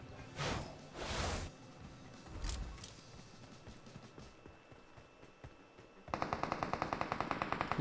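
Gunfire in the mobile battle-royale game PUBG Mobile: after a few muffled whooshing bursts, a loud rapid automatic burst of evenly spaced shots fills the last two seconds, close and sharp.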